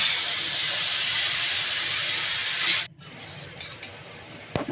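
Boiling sugar water poured into a pan of reddish roasted semolina for sheera, giving a loud, steady hissing sizzle that cuts off abruptly near the end, followed by quieter stirring clatter.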